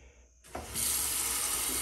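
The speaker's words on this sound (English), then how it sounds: "Running water in the cabin. Rainwater harvested." Rainwater from an off-grid cabin catchment, pushed by a homemade 12V pump, bursts from a tap after a quiet moment and then pours in a steady, close, loud rush with no talking.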